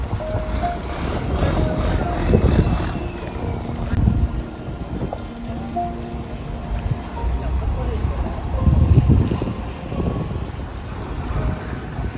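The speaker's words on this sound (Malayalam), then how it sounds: "ഒരു ബോട്ട് ഇങ്ങോട്ട് വരുന്നത് കാണാൻ സാധിക്കും." A boat engine drones across open water near a fishing harbour, rising and falling under wind noise, with people talking intermittently nearby.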